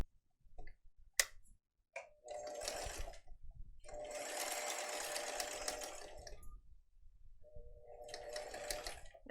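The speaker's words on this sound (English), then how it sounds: "let's go sew these." A sewing machine stitching a tote bag runs in three bursts of rapid, steady whirring, separated by quiet pauses with small clicks and handling noises, close and moderately loud.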